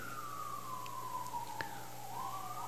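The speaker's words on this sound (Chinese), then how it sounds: "我来美国听最多就是这个什么救护车、消防车，好像几分钟就一次啊。" An emergency vehicle siren in the United States wails and sweeps down and back up in pitch, faint and distant over a low hum of background noise.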